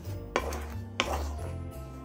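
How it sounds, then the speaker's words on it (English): A spoon knocks twice against a pot while chocolate is stirred into sugar for old-fashioned fudge, the clinks sharp and close over a low steady hum. "I'm gonna give this a little bit of a stir first, just stirring up my chocolate into my sugar a little bit."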